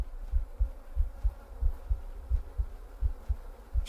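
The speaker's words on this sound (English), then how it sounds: "Why am I hearing a heartbeat?" Heartbeat from the video game The Excavation of Hob's Barrow, a steady, low, muffled double thump repeating about three times per second, alone with no talk.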